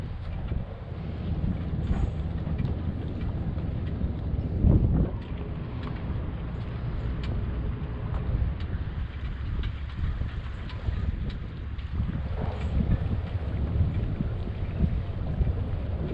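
Low, rumbling engine and bow thruster noise from a super yacht manoeuvring in wind, a continuous heavy drone with gusty wind buffeting the microphone and a few brief thumps.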